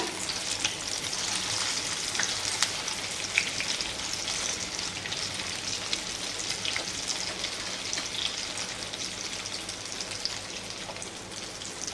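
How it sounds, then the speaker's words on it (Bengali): Fish kofta balls, spiced with chili powder, fry in oil with a steady, even sizzle and crackle throughout, close and continuous with no talking. "ভাজা হয়ে যাচ্ছে।"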